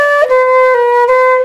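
A flute plays softly with the teeth closed, holding one sustained note with a slight pitch shift, thin and breathy in tone, close and alone for about a second and a half.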